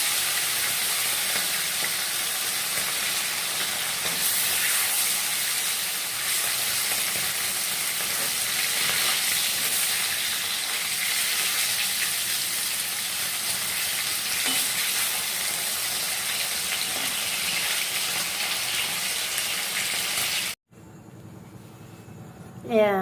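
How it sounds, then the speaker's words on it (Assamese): Pieces of chital fish half-fry in hot oil in a wok, giving a loud, steady, close sizzle that hisses on without a break before cutting off abruptly near the end. "এতিয়া মাছখিনি মই প্ৰথমতে কেৰাহীখনত হাফ ফ্ৰাই কৰি দিম।"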